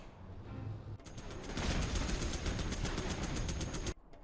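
Sustained rapid gunfire as units force-fire on an oil derrick in the strategy game Generals Zero Hour, a dense crackling barrage lasting about three seconds that starts and stops abruptly, loud and close.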